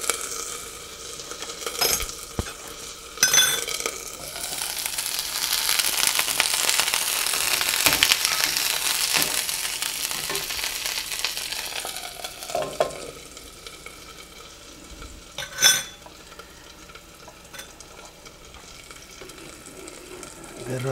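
Butter and stew in a pan give off a soft, steady sizzle under scraping stirs, with a few sharper clinks and knocks and a faint voice in places, heard close throughout.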